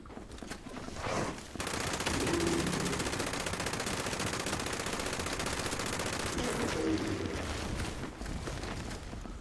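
Sustained automatic gunfire in the video game Fallout 76, firing 5mm ammunition in a long unbroken stream of rapid, loud, close shots that runs for several seconds before easing off, with no speech.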